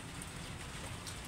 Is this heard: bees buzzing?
no